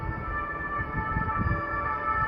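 An emergency vehicle siren wails steadily in the distance, a sustained tonal drone over low rumbling background noise, with no talk.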